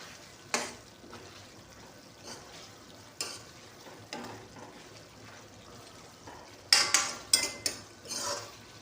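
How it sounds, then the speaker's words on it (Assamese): Pork pieces frying in oil with onion in a pan while being stirred, giving a steady low sizzle broken by sharp scraping clatters of a utensil against the pan, clustered near the end; no talk. "মাংসটো ভাজি আছোঁ"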